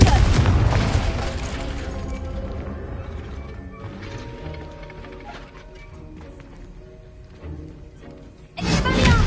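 Confringo blasting spell in a video game, a loud booming blast at the start decaying into rumbling debris and clatter, then a second sharp burst near the end.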